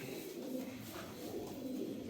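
Soft, low pigeon cooing murmurs steadily throughout, a continuous warbling hum with no pauses, fairly quiet and close.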